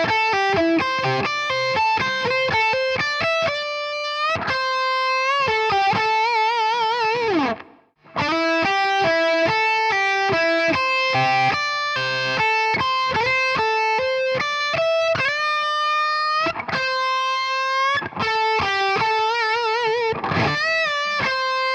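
A heavily distorted electric guitar plays a fast, continuous lead lick in a solo, sliding between pentatonic positions with the same picking pattern. Dense, rapid notes run throughout with a brief gap midway, loud and alone.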